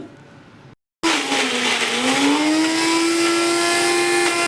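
A mixer grinder whirs loudly after a brief silence, its motor pitch rising slightly then holding steady as it grinds rock salt, coriander leaves and spices with a little water.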